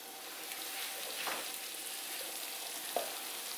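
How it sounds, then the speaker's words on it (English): Roasted honey mustard ham sizzles steadily in its pan just out of the oven, a constant close crackle and hiss with a few sharper pops. "Everything's got to stop sizzling before we can eat it."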